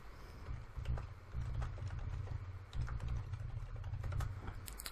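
Fingers tap out a password on a computer keyboard, a short run of close, crisp keystrokes in uneven bursts with small pauses, no voices.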